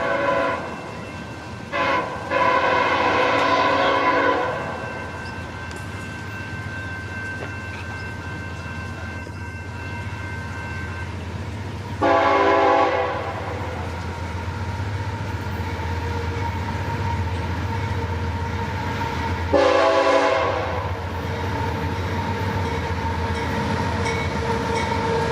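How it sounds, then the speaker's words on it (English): A CSX southbound intermodal freight train approaches, its horn sounding in several loud blasts, short then long, over a continuous low rumble of the rolling train. "approaching our position is I-158, a southbound intermodal train originating from Bedford Park, Illinois"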